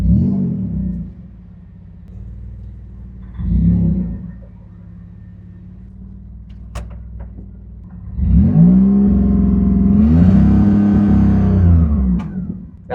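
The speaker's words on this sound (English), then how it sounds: "Got a little bit of a misfire." Car engine with a misfire, idling low and uneven, then revving up in a couple of louder, rough bursts close by.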